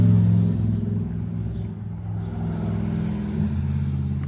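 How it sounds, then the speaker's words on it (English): A steady low engine rumble of a large vehicle moving along a road, loud and sustained throughout, with no one speaking. "there's a truck coming up the road"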